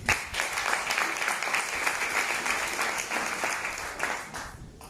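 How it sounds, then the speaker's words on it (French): A seated crowd at a Longrich business event in Cameroon claps warmly, a continuous wash of applause with slight swells that begins to thin toward the end, no voices over it. "un tonnerre d'applaudissements pour ma upline"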